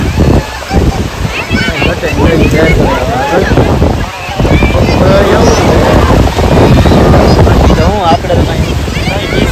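Sea waves roll and wind buffets loudly on the beach at Somnath in Gujarat, a continuous rough roar with voices talking underneath.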